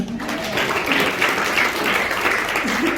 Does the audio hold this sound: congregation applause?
yes